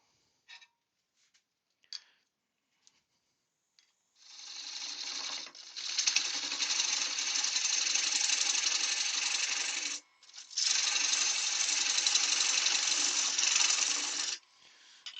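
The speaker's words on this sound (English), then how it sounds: "just stop the lathe a wee minute" Wood lathe turning a salt and pepper pot, a steady loud whirring hiss of the cut running about five seconds, a brief pause, then another long stretch, after a few faint taps at the start.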